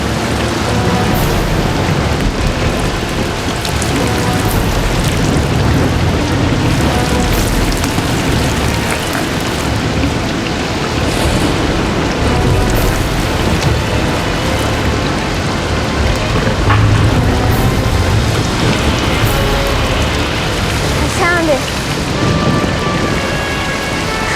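Heavy rain pouring steadily and loudly on surfaces, a dense unbroken wash of noise with occasional low rumbles of thunder and gusts of wind throughout.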